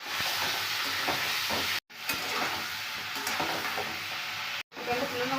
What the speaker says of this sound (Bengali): কড়াইয়ের মধ্যে আমি চিকেনগুলোকে একটু দিয়ে আমি আগে চিকেনগুলোকে একটু ভেজে নিই।